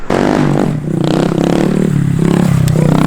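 Motorcycle engine revs in bursts while riders pull wheelies, loud and near with choppy throttle blips and clattering, scraping noise over the engine drone.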